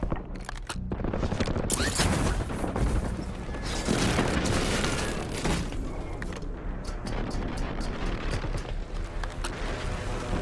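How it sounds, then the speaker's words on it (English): Enemy airstrike explosions in the video game Call of Duty Warzone Mobile pound continuously, with dense booms and rattling gunfire blending into a loud, chaotic barrage that swells and lingers. "Enemy airstrike in the area."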